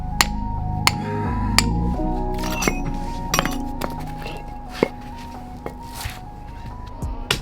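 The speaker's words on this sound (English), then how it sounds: "I'm chipping off this glue so that the caps sit nice and tight on them." Chipping dried glue off interlocking concrete wall blocks yields a series of sharp, close knocks and clinks, spaced irregularly over a steady background hum.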